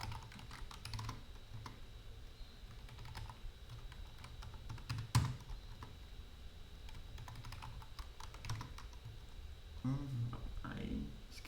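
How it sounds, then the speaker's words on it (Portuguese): Password typed on a computer keyboard while setting up Windows Server 2022 in VirtualBox: scattered faint, close key clicks under a quiet room hum, with a few louder taps near the end. "Então eu vou digitar minha senha que eu coloquei do administrator"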